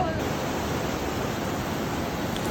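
Sea waves at Nacpan Beach in El Nido, Palawan, roar in a continuous, loud wash of surf heard close by, with no clear break in the sound.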